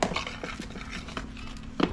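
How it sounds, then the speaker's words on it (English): Chicken drumsticks are tossed in flour in a bowl, giving soft rustling, patting and light clinks against the bowl in quick irregular bursts, close and quiet. "give the flour a mix"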